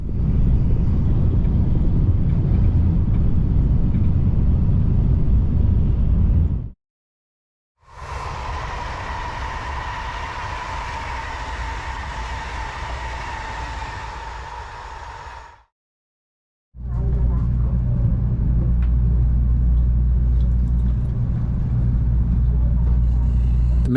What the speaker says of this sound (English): We're traveling on the Hikari Limited Express